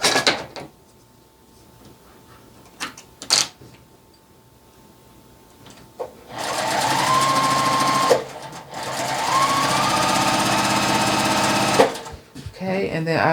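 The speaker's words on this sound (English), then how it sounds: "I'm going to sew that with a 1/4 inch seam" A sewing machine stitches quilt pieces together with a quarter-inch seam in two loud, steady runs separated by a brief pause, preceded by quiet fabric handling and a few sharp clicks.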